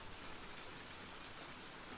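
Steady rain pours down in a video game scene, a dense, even hiss of drops hitting the ground that stays at the same level throughout with no other sounds.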